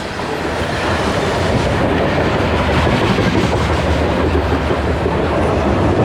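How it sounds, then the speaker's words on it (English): Loaded freight cars of a grain unit train roll steadily along the rails beside the Bow River, a constant loud rumble with faint rhythmic clacking and no voices. "All these train cars are heading to Vancouver and they're full"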